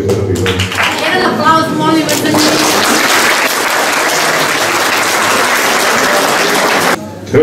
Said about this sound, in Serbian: Jedan aplauz, molim vas